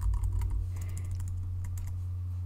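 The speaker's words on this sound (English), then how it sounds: "just type a new name up here" Fingers tap quickly on a computer keyboard entering a new file name, a brief run of close, crisp clicks over a low steady hum.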